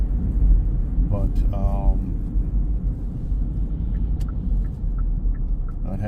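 A car comes up the road toward a bicycle rider on a morning commute, heard as a steady low rumble that holds throughout while a voice talks over it.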